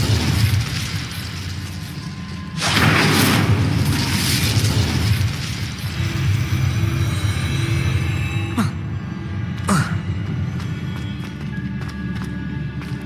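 Incendio fire spell cast in the Hogwarts Legacy video game, a loud, sudden burst of roaring flame that holds for several seconds before thinning into game ambience, with a couple of sharp hits later.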